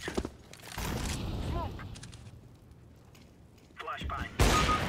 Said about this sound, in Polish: No i znowu taki kurde szybki strzał